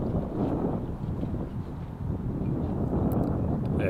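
Wind gusting across a disc golf course during a winter tournament round, heard as a continuous rumbling roar buffeting the microphone. It swells slightly toward the end, with faint commentary underneath.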